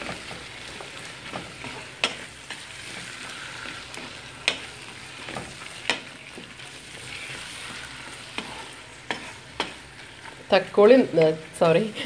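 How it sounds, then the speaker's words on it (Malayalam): Tomatoes and green chillies sautéing in a pan for a Kerala-style mutton curry, a steady frying sizzle punctuated by spoon taps, with louder stirring and scraping near the end, close and without voices. "ഇതൊരു 3 തക്കാളി, ഒരു 9 പച്ചമുളകുമാണ് നമ്മൾ അതിനകത്തോട്ട് ഇടുന്നത്. ഇട്ടിട്ട് നല്ലപോലെ വഴറ്റുക."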